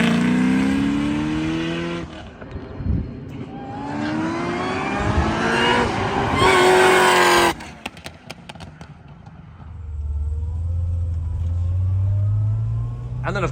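A Chevrolet Corvette C6 ZR1's engine revs hard under full throttle, the pitch climbing through rising gear pulls, loud and close, before easing back to a low rumble.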